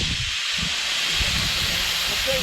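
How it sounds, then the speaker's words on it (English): Steady, loud hiss of steam escaping from a cooking pot of chicken at a traditional Saudi cookout, continuous and close with a faint low rumble beneath, no talking. "You cannot see that steam coming out right now."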